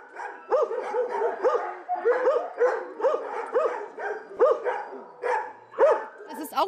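A young Blue Line Staffordshire terrier barks and yips repeatedly at close range, in quick uneven bursts with some whimpering tones mixed in.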